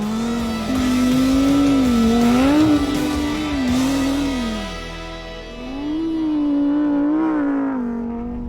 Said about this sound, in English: the thing about launching an off-road supercar at a track in the middle of the desert is your surroundings become part of the playground too